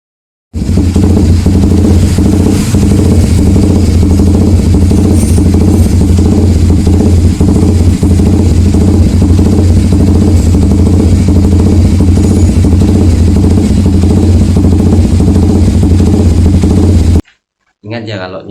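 A Suzuki GSX 150 motorcycle engine idles at operating temperature, a loud, steady, close rumble that runs unbroken until it cuts off near the end.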